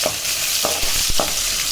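Small onions frying in a pan for Coimbatore hotel-style sambar, a steady soft sizzle with a few distinct clinks and scrapes of stirring, close and without talk.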